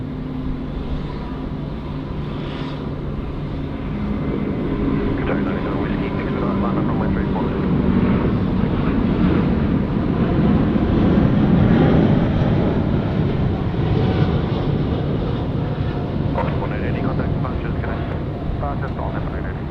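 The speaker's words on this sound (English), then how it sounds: "We're now watching All Nippon Airways now rolling out the 78 off to Haneda" All Nippon Airways Boeing 787 taking off at night from Sydney Airport, bound for Haneda: a steady, loud jet engine roar that swells toward the middle and holds for the whole stretch, with people talking over it.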